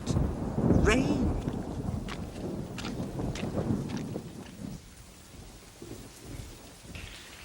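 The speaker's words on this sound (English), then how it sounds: "Rain." Steady rain pours over a large house in ancient Pompeii while thunder rumbles low and heavy, loudest early and easing later, with a voice talking over it.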